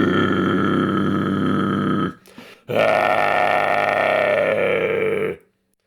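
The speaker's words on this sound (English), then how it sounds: "I figured out how to do a false chord sound." A false chord scream voiced by a person practising the technique: two loud, gritty, roaring bursts, the first about two seconds long and the second about three, separated by a brief ragged breath, close and alone.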